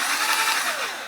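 A Dewalt 20V cordless electric spin scrubber spins at 1500 RPM in a short, loud, high-pitched whir that eases down slightly toward the end, with no voices.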